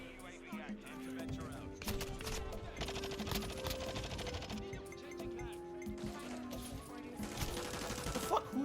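Rapid video game gunfire from Xenoblade Chronicles 3 rattles on as a dense, continuous barrage of shots into a building, layered with in-game music and effects.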